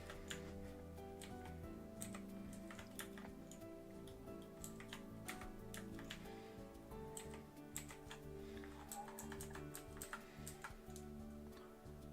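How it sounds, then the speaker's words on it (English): Keys clatter on a computer keyboard in quick, irregular bursts of clicks, faint and close, with short pauses between runs of typing over a quiet background hum. "I'm just gonna type these in, so bear with."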